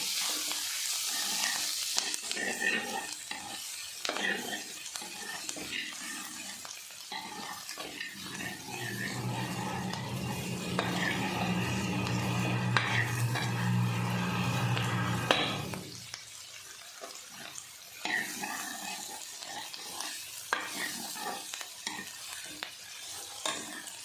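Ginger, green chilies and onion fry and get stirred in a pan for a squash curry, a steady close sizzle with scraping stirs that swells louder midway and then settles back, with no talking.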